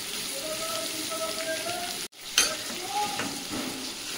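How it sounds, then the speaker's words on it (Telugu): Ridge gourd pieces frying over a medium flame in a pan, a steady soft sizzle with a brief break midway, then a few spattering crackles and stirring before the even hiss resumes. "మరి హై ఫ్లేమ్లో కాదు, మీడియం ఫ్లేమ్లో మనం వీటిని వేయించుకోవాలి"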